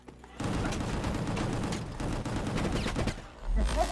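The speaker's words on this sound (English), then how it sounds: "There's a rocket to the face." In a video game, a rocket hits a player during a burst of dense, booming gunfire-like explosions. The loud, continuous blasts run close for several seconds before cutting off with a final thump.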